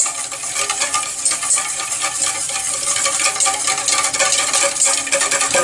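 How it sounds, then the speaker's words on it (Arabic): Mayonnaise being whisked by hand as oil is added drop by drop, giving a steady, fast scraping and clicking of the whisk against the bowl, close and continuous with no voices. "الزيت حبيبتي تحطيه قطرات وتطلعي وتضربي"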